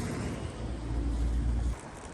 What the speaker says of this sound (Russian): Поворачивает машина.